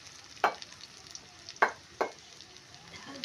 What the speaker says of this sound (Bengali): লাল করে না ভাজলে তো হচ্ছে না আর কি, আমি একটু আরো ভালো করে ভেজে নিলাম।